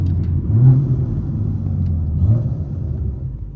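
A BMW 340i running on race gas pulls hard from inside the cabin, a loud low engine rumble that swells and holds steady with no talk.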